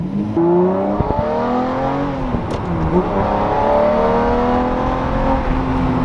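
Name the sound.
Lamborghini Murcielago engine revving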